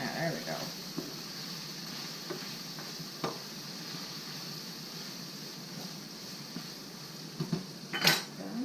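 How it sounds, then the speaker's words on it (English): Carne asada sizzling in a pan while being stirred, a steady frying hiss with occasional scrapes and clinks of the utensil against the pan, fairly faint throughout. "I'm going to stir my carne asada real quick"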